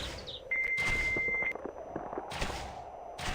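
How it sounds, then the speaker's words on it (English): A dial-up internet modem connecting, a steady pure tone followed by harsh screeching bursts of static-like handshake noise, fairly loud and close. "that is a dial-up sound from when"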